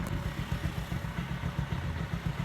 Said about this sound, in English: And our bikes are getting warmed up.